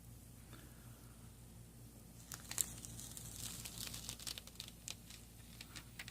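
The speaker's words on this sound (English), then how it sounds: "And we slowly peel off the film, make sure nothing's coming up" Transfer film is peeled slowly off rhinestones pressed onto fabric, giving faint, close crinkling and tearing crackles that turn into a scattered run of soft rustles and small ticks.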